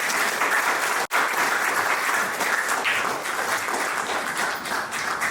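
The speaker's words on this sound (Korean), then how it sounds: "박수로 부탁드립니다." An audience at a forum for small business owners and the self-employed applauds a lawmaker's introduction: steady, full clapping from a large crowd with a momentary dropout near the start, then continuous to the end.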